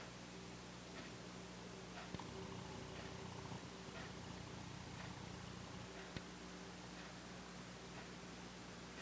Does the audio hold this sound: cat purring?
yes